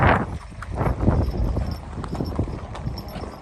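Horse hooves clip-clopping on a mountain trail during the Amarnath Yatra, a steady close rhythm of hoof strikes with a busy outdoor background and faint voices.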